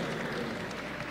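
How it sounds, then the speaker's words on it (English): Audience applause at a Call of Duty XP panel, a brief steady burst of clapping from a crowd that holds level throughout. "get a round of applause for this man."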